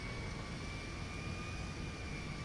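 Continuous broadband roar of a Boeing 747 modded as Air Force One in the GTA 5 video game, a steady engine drone with faint tonal whine, no talk.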